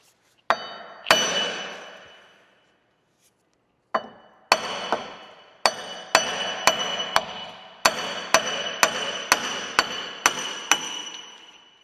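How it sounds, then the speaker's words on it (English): A hammer pounding the back of a rusted rear wheel hub on a 2008-2011 Dodge Grand Caravan, a loud, close series of ringing metallic blows, two spaced strikes followed by a quicker steady run of hits. "we're going to get the hammer and we're going to hit the back of the hub right here to try to get this thing to come out"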